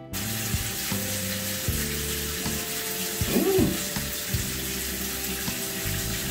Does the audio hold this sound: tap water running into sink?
yes